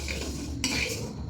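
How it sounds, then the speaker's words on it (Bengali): Dal frying in a pan while being stirred with a metal utensil, steady scraping and clinking against the pan with a brighter clatter partway through, close and alone with no voices. "এদিকে ডাল ভাজা হচ্ছে"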